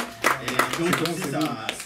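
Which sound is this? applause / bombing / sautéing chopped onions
applause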